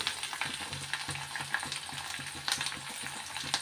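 Ginger and green chili fry in hot oil in a pan for lime pickle, giving a steady close crackling sizzle with stirring scrapes and small pops throughout.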